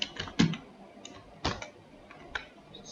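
Quiet, sparse key clicks from a computer keyboard while a spreadsheet formula is typed into Google Sheets, just a handful of separate taps heard close up with no talking.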